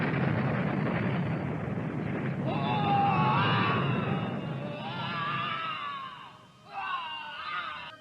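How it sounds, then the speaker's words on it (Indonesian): A giant supernatural creature's thunderous scream, produced as an audio drama effect: a loud, roaring rumble overlaid with wavering, shrieking wails. It dips briefly near the end before one last shriek rises. "Makhluk raksasa itu akhirnya lenyap setelah terdengar suara teriakan yang menggelegar."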